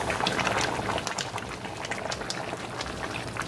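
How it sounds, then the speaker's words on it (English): Shahi chicken mushroom curry simmers in a pot, a steady bubbling and popping close by with dense crackle throughout and no voices. "it simmer on low heat for 5 minutes"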